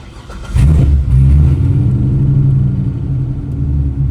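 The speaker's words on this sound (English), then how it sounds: "low-key, I'm scared to start my car" A loud Chevrolet Corvette C6 engine fires up with a sudden deep roar and settles into a heavy, rumbling idle with slight revs, close and powerful, with no talk over it.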